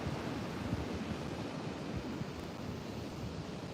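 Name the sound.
ocean waves and surf rolling in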